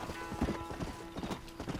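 Rapid clip-clop of horse hooves striking ground in the video game Red Dead Redemption, steady and fairly close, with faint background clatter and a sustained hum.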